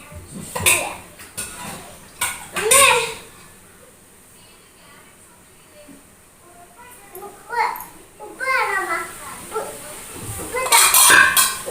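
Washing-up pots and dishes swirled around in water at a kitchen sink give off intermittent clinks and clatters, mixed with nearby voices, including children talking.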